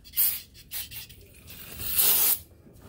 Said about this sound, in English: So take some brake cleaner.